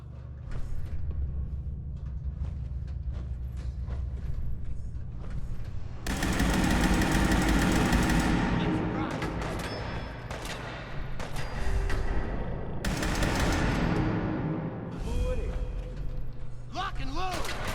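A broadsider cannon fires in Fallout 4 with loud, booming blasts and crackling gunfire in heavy bursts, while someone talks over parts of the barrage.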